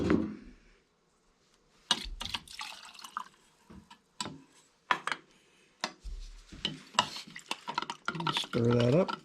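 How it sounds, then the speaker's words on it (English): A 50-50 wood finish mix is stirred in a container while building a cherry end table, giving intermittent scraping and sloshing strokes up close, with pauses between bursts. "Stir that up, be ready to start applying our finish."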